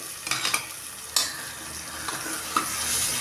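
Tomatoes, green chilies and garlic sautéing in a pan for beef salna, a steady close sizzle broken by several scraping clicks of a spoon stirring against the pan.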